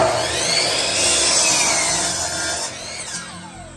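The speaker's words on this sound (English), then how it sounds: "I have one more stud left to saw and put in this wall." A power saw cutting through a wooden stud, loud and continuous with a rough, grinding whine that shifts slightly in pitch as the blade moves.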